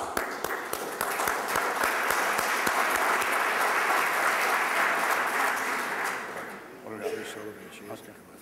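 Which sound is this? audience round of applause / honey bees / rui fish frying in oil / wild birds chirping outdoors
audience round of applause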